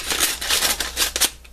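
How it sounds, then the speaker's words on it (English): Scissors snip and crunch through a crinkly plastic bargain bag in a rapid series of close, loud cuts with rustling between them. "I'll just open it with scissors because that's a little safer."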